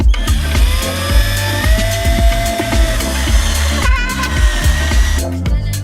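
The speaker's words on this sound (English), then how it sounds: "We will fix the two together with screws." A power screwdriver drives screws into wooden boards for a frame, bursts of whirring motor with ratcheting clicks and knocks against the wood, repeated several times in loud close succession.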